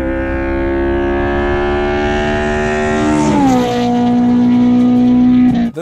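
A high-revving car engine, one that spins up to 9,000 RPM, climbs steadily in pitch, dips sharply as it shifts, then holds a loud, sustained whine before cutting off abruptly; no voices.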